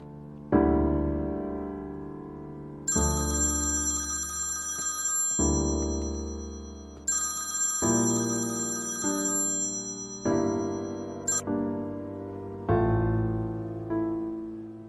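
A telephone rings in repeated electronic bursts, a steady loud ringtone pattern with short gaps, no voices.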